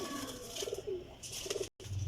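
An old champion flying pigeon coos in short rounded phrases twice, fairly close, over a steady background hiss with a brief dropout near the end.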